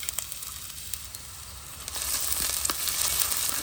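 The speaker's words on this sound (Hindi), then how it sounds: "इसको अच्छी तरह से अभी हम लोग भून लेंगे जब तक ये सॉफ्ट ना हो जाए।" Chopped onion fries in oil in a clay pot with a continuous, close sizzle that swells louder halfway through, with no talk.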